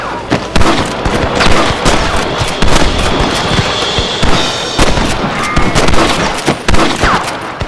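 Gunfire in Red Dead Redemption during a shootout with rustlers in Pike's Basin, rapid loud cracks in dense overlapping bursts with echoing reports, sustained and close throughout.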